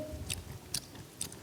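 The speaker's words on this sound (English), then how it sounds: "quit chewing your gum so loudly" Soft, close chewing of gum with a few crisp wet clicks and smacks spaced irregularly over a quiet background.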